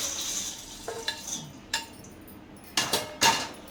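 Puffed rice (murmura) masala chaat is tossed and stirred in a big basin, giving scattered soft scrapes and a few sharper clinks against the metal over a quiet background, with no talking.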